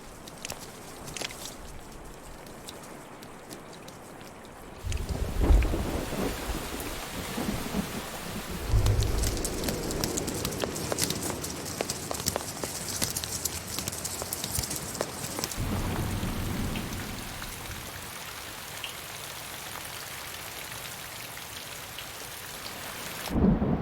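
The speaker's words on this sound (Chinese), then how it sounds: "热带暴雨洗去发硬的火山灰层" Heavy tropical rain pours steadily while deep thunder rumbles and rolls through the storm, swelling loud at times before easing to a steady downpour.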